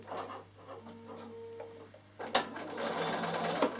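A sewing machine stitches a quarter inch seam on a travel pouch, its close, steady mechanical whir and rapid ticking running continuously and growing louder and busier partway through.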